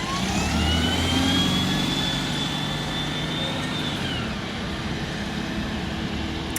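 Bus VU11 BTF passes on a Gloucester street, its steady mid-pitched engine drone with a rising whine that sweeps up then falls away, loud and continuous throughout amid traffic noise.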